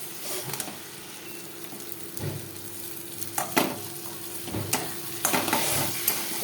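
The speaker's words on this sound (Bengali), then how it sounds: "অল্প একটু তেল দিয়েছিলাম তাও কত তেল বেরিয়েছে এবার ভালো করে নাড়তে হবে অনেকক্ষণ ধরে" Bengali fish oil curry fries in a pan with a steady soft sizzle while a spoon stirs and scrapes it, giving repeated sharp clinks and scrapes that grow busier toward the end, with no talking.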